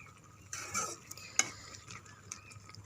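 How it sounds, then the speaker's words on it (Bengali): Okra being stirred and turned in a pan, a few soft scraping strokes and a sharp utensil clink over a faint background sizzle, close and quiet with no talking. "ঢেঁড়সটা আবার একটু উল্টিয়ে পাল্টিয়ে নাড়াচাড়া করে দেই"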